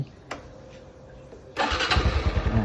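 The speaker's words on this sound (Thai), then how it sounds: "สตาร์ทครั้งเดียวติดเหมือนเดิม เสียงเครื่อง ปกติไม่มีปัญหาอะไร" A low background hum, then an engine cranks and catches on the first try, settling into a steady, throbbing idle close by with no faults.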